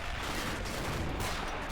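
Tank cannon fire in a Stalingrad battle in the RobZ Realism Mod, with a T-34 and a Panzer III trading shots. A dense, loud, continuous roar of gunfire and blast rumble fills the whole moment without a break.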